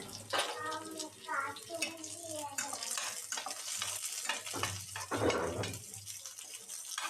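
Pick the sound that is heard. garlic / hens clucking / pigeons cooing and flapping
garlic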